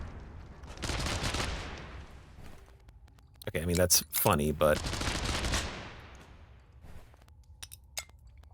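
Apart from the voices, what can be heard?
double explosion rocket launcher firing in video game Untitled Pixel Simulator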